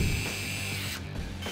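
A Draper Storm Force power drill driving a screw gives a steady mechanical whir and buzz that continues throughout, with a brief dip in the high end partway, and no voices.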